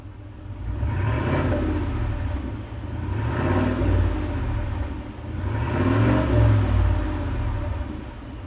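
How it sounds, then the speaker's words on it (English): A Ford Super Duty truck engine with no exhaust fitted revs up three times in slow waves, each rise a loud raw rumble that falls back between pulls. "you have to start the car without exhaust. Give it a couple revs."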